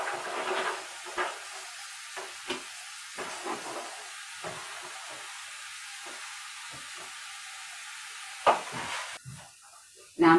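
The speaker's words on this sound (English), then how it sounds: "Now I'm gonna go ahead and cook this until our bacon is done and I have a nice brown color on our onions." Bacon and onions cooking in a pan over medium-low heat, giving a continuous quiet hiss and sizzle with occasional utensil taps and a louder clatter near the end.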